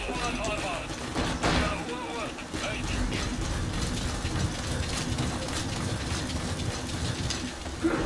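Rain falling in the Metal Gear Solid V: The Phantom Pain video game, a dense continuous wash of patter with low rumble beneath, steady throughout with a few brief surges.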